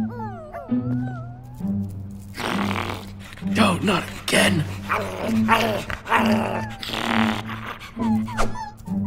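In the Minecraft: Story Mode video game, puppies growl and bark in low rumbling bursts beneath steady game music, with voices speaking over them.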